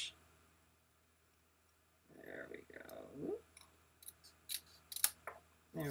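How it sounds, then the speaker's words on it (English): Scissors trim the edges of card paper in a quiet crafting setting, a run of close, soft snips and crisp clicks in uneven rhythm after a brief silence. "I'm just going to trim the sides here to"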